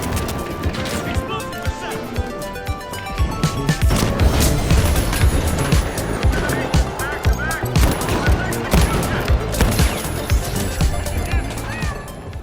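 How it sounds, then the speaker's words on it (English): The BFR Titan, a heavy-class revolver in The Finals, fires repeated loud, punchy shots at a slow, uneven pace amid crashing impacts and busy game action, with music running beneath. "It's a high damage, slow firing revolver for the heavy class that has massive potential."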